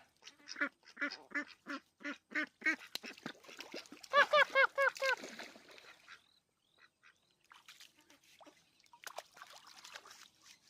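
Loud, rapid duck quacks come in a rhythmic series of harsh calls, building to a burst of overlapping quacking before trailing off into quieter, scattered sounds.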